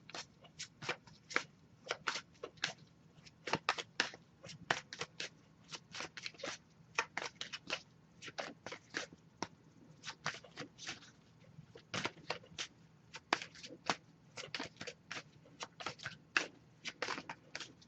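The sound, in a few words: shuffling cards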